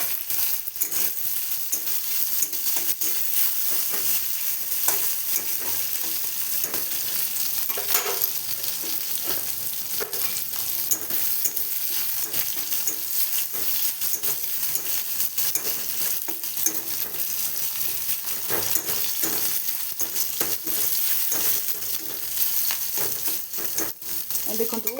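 Garlic and tomatoes fry in a pan with a continuous close sizzle, dotted with light clinks and stirring scrapes, steady the whole way through, no talk.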